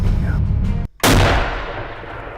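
A single loud rifle shot fired at a whitetail buck during a hunt. The blast follows a brief hush outdoors and rings out with a long, decaying echo.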